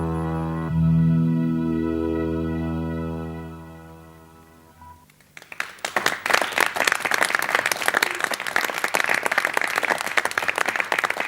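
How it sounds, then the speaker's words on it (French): Young people in a television studio audience break into applause, a dense, lively clatter of many hands that starts abruptly after a stretch of sustained tonal music and carries on strongly to the end. "vous êtes applaudis par des jeunes messieurs qui participent aujourd'hui à l'émission"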